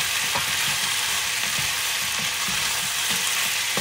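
Spicy chicken feet are stirred in a hot pan, with a loud, continuous sizzle and faint, repeated scraping strokes underneath. No voices are heard.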